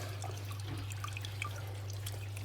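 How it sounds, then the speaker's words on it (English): Water drips and trickles back into a paludarium tank in scattered soft drops over a steady low pump hum. "So the water going back in,"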